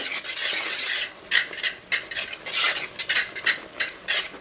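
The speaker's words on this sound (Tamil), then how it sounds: "இந்த மாதிரி விஸ்க் வச்சு நல்லா கலந்துக்கும் போது உங்களுக்கு சுலபமாக இருக்கும்" Ragi flour dough thickening over a low flame while a whisk stirs it, heard as a quick series of rhythmic scraping, swishing strokes, close and fairly soft, with no talk.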